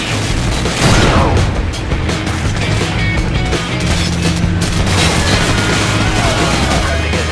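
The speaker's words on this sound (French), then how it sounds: "Grenade flash. Go." Call of Duty Modern Warfare combat erupts with a sharp flashbang boom followed by dense, loud bursts of gunfire and crashing impacts that continue without pause.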